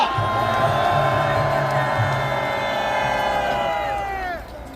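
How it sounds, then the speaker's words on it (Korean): A large crowd at a political rally cheers and applauds for young people, a dense, sustained roar of voices and clapping that holds steady before easing off toward the end. "우리 젊은이들에게 큰 박수 한번 해주시기 바랍니다."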